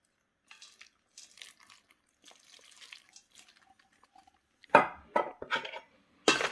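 Boiled salt water is poured over peanuts in their shells, with faint clinks and trickles first, then a few louder splashing pours and rattles near the end.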